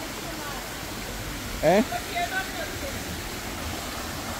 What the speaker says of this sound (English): That's the water flowing down there.